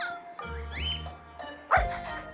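A pet dog gives a high, wavering whimper and whine followed by a sharp bark, close and fairly loud, within a couple of seconds.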